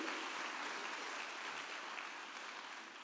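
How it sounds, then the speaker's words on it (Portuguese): Steady applause from a church congregation during a sermon, sustained dense clapping throughout at an even level with no voices on top. "Dá uma salva de palmas para Jesus"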